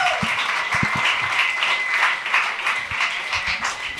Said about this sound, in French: J'aimerais ça qu'on donne bonne main d'applaudissements